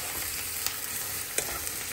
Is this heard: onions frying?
yes